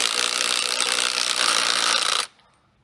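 A ratchet clicks rapidly and evenly for about two seconds while tightening bolts on a Ford 9 inch axle differential housing, then stops abruptly into near silence.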